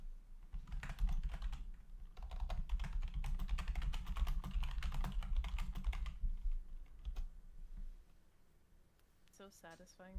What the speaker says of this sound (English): I'm just a Lord. loud typer.